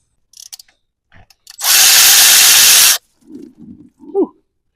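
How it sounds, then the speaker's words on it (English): Coolant drains and sprays from a DVX400 radiator in a sudden loud hiss that lasts just over a second. A few small clicks come before it, and brief vocal sounds follow. "let's go ahead and drain the coolant and see what we got going on"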